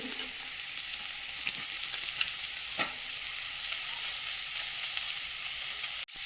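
Turmeric and Kashmiri chili powder frying in a pan give a loud, continuous close-up sizzle with faint scraping, ending in a short clunk.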